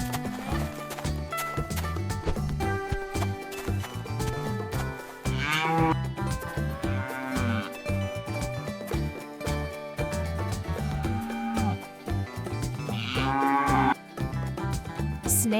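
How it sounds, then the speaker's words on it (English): A cow moos on a farm as part of a kids' animal lesson, the lowing mixed into busy background music with hoofbeat-like clip-clop, steady and fairly loud throughout. "A cow is a large farm animal."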